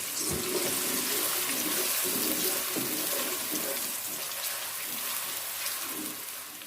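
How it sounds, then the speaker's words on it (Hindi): Sliced onions fry in hot oil in a pan for a matar keema, giving a steady, dense sizzle that hisses continuously and close by, softening slightly toward the end. "ऑयल हमारा गर्म हो चुका है। अब हम इसके अंदर प्याज डालेंगे।"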